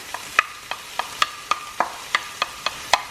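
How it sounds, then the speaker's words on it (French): A rinsed leek is stirred in a frying pan with a drizzle of oil, giving a soft background sizzle and a regular run of sharp scraping taps from the utensil, about three per second, close and clear. "je viens de déposer dans ma poêle un filet d'huile et je vais maintenant venir faire suer mon poireau"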